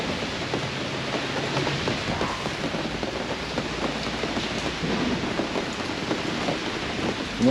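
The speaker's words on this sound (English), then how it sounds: "It is raining right now." Steady rain falls outside Mast General Store in Hendersonville, North Carolina, a dense, even hiss of drops on surfaces that lasts the whole stretch with no voices.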